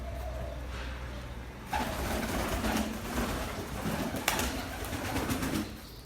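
Pigeons coo and flutter outdoors near a coop against a steady wash of ambient noise, moderately close, with no talking.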